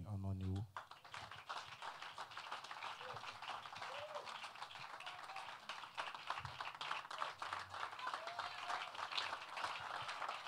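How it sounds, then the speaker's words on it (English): Church congregation clapping along in a rhythmic, dense patter of many hands, sustained throughout with singing and talk over it. "If you are clapping for Jesus, do it better"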